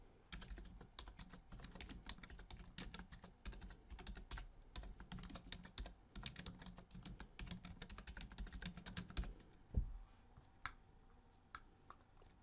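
Rapid, steady typing on a computer keyboard, close and dry, with dense clicky keystrokes running for about nine seconds before trailing off into a few scattered taps.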